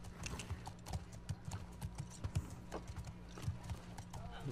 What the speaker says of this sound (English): we're gonna ride a horse